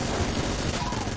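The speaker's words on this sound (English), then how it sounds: "I think I have a synergy that boosts the Vulcan Cannon's fire rate for sustained shooting" Vulcan Cannon firing in Enter the Gungeon, a dense rapid stream of gunfire forming a continuous rattling roar throughout, boosted to a sustained high fire rate.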